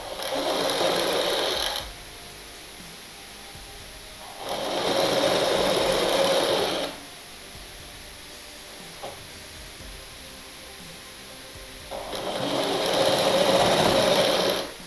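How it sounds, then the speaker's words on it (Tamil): A sewing machine stitches a blouse in three loud, steady bursts of several seconds each, separated by quieter pauses with a faint hum. "ரெண்டு தையல் போட்டுக்கோங்க."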